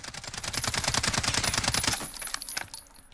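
Rapid automatic fire from an H&K UMP45 in Call of Duty Modern Warfare, one long, close, loud string of evenly spaced shots lasting about two seconds, then tapering off with a few trailing clinks.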